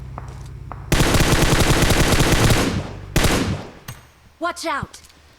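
Rapid automatic gunfire from PUBG Mobile, loud and dense in two sustained bursts followed by scattered shots, with a brief voice heard near the end.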